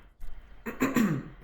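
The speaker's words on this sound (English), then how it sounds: "I was just clearing my throat" A short pause, then a single gruff clearing of the throat, close and fairly loud, in two rough bursts.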